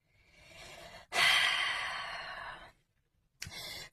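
A long, breathy exhale fills the middle of the clip after a softer inhale, with another breath starting near the end, close and clear with no talking, during a calm guided new moon meditation.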